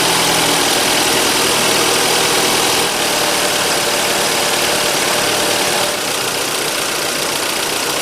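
A car engine idles steadily up close while warming up, a constant rough mechanical hum with faint knocking, running without a break.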